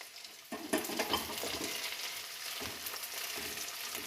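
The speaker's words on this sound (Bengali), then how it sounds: "এই টমেটো কুচিগুলো আমি এর মধ্যে ঢেলে দেবো" Chopped tomatoes dropping into a hot frying pan for a chicken dish, with a burst of sizzling at the start followed by steady frying hiss and scraping stirring strokes, close by, with no talk.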